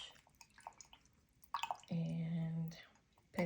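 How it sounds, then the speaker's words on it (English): A paintbrush being wetted in water while working on an abstract mixed-media painting with water-soluble pencils: faint, scattered drips and small wet squishes up close, with a brief steady hum partway through. "But we're just going to go ahead and wet our brush"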